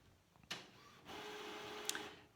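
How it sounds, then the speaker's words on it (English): Office printer running in a room behind a lecture, starting with a sharp clunk then a steady mechanical whir with a brief rattle near the end, moderately faint, no one talking. "Excuse my printer going off in the background."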